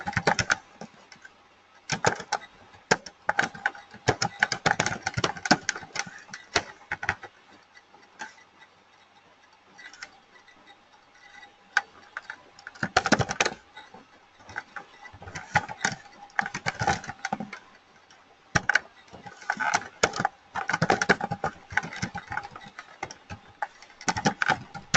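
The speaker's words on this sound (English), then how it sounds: "now you write your code," Computer keyboard typing as code is entered for Salesforce administration, with bursts of rapid, close key clicks broken by short pauses.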